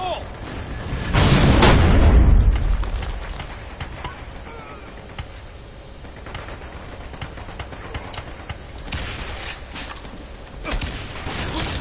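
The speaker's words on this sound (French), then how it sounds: "Grenade. Fire in the hole." A grenade goes off in the shooter game Metro Conflict, a loud booming blast about a second in that rolls away over a couple of seconds, followed by quieter sporadic gunfire and mechanical clatter.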